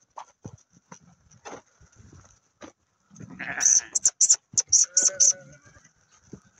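Sheep bleating in a farm pen, several loud bleats clustered mid-clip amid quiet shuffling and faint background voices.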